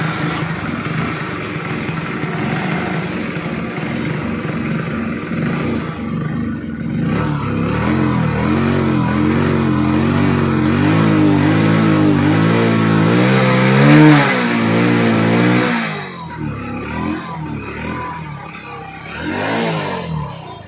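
A Hero HF Deluxe BS6 kick-start motorcycle with starting trouble and misfiring runs close by, idling roughly, then revving up in a long wavering rise before dropping back to an uneven idle.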